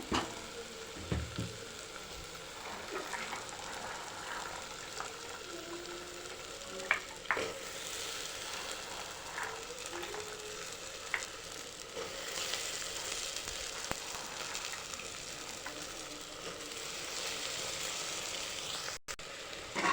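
Black-eyed peas are stirred and fried with masala and turmeric in a pan, giving a soft ongoing sizzle with scraping stirs and occasional clinks, fairly quiet and without talk.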